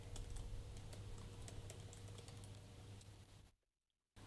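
Steady rapid typing on a computer keyboard during React JS coding, close and continuous clicking that stops abruptly near the end, with no talk.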